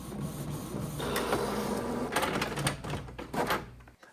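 A printer feeds and prints a glossy label sheet of license plate labels, with rhythmic mechanical whirring and clicking bursts at moderate volume, ending in a sudden stop.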